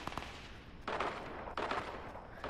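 A shotgun fires in the video game Fortnite with two loud, close blasts, each followed by a brief decaying tail. Quieter game noise fills the gaps between the shots.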